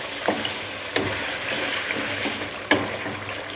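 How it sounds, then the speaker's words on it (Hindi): Chicken frying in a pan with ground spices, a continuous soft sizzle broken by a few sharp stirring clacks of a utensil against the pan, close and moderately loud. "अभी हम 3-4 मिनट इन स्पाइसेस में इसको चिकन को भुनेंगे।"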